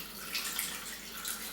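Filtered water pours steadily into a juice or smoothie drink to top it up, a continuous close splashing rush with no talk.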